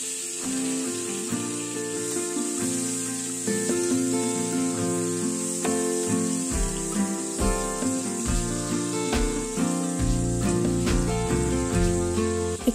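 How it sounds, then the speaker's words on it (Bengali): Potatoes fry in oil left over from prawns, giving a hissing sizzle that runs throughout under a bed of steady tonal background music, with a few soft clinks from the pan. "ওই তেলেই ছেড়ে দিচ্ছি আলুগুলোকে হালকা লাল করে ভেজে নেব"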